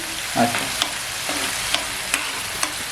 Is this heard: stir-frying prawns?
yes